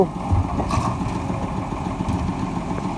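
A Long Turbo vehicle's engine labors and revs steadily as it climbs out of a pond, a moderately loud, mid-pitched mechanical drone holding fairly constant over a few seconds.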